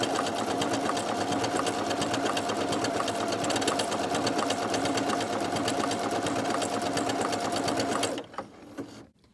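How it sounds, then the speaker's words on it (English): A sewing machine stitches a fabric seam, a steady fast mechanical whirring and ticking at close range that runs for about eight seconds before stopping. "For me, that's in the middle of the sewing foot, so I'm going to sew lining up with that."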